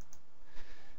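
A single computer mouse click, a right-click made while setting up a new Java web project in an IDE, sounds as one short, quiet tick against a faint room hiss with no talking.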